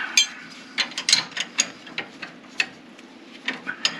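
Hand wrench ratcheting on a loose nut on a vehicle, a series of quick, close, sharp metallic clicks in irregular bursts, with no talking.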